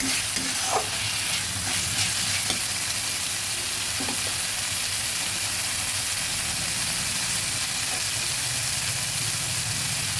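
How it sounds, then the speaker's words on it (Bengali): Prawns frying in a pan for chingri malai curry, giving a continuous, fairly loud hiss and sizzle throughout with a few soft stirring knocks and no voices. "আর একটু ভেজে নেব"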